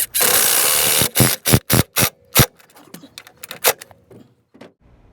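A power driver sinks lag screws into a 2x4 trailer frame under a camper, with one long buzzing run followed by a series of short, loud bursts and scattered clanks.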